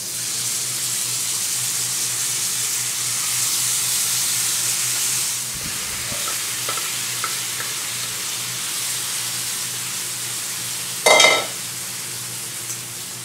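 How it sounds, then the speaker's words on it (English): Butter sizzles and hisses steadily in a hot pan, a close, constant frying crackle with a brief louder burst near the end, no talking over it. "There's the pan. There goes some butter. That's why we call it sizzling."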